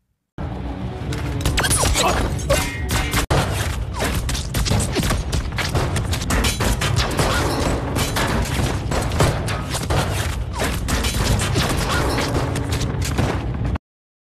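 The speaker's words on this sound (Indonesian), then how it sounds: "Mendengar suara tembakan, Ji Hyung bergegas masuk" Dense, sustained gunfire with rapid bursts and shots layered over a loud, chaotic action soundtrack from the film Night in Paradise, continuous for the whole stretch.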